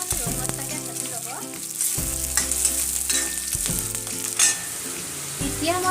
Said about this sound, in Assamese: পিঁয়াজখিনি অকণমান ৰঙচুৱাকৈ ভাজি ল'ব।